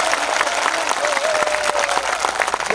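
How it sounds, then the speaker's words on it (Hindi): Loud, dense applause from an audience at a Narmada Jayanti bhajan gathering, continuous clapping throughout with a brief tonal voice or whistle rising near the end. "जोरदार ताली बजा के मां का स्वागत करें"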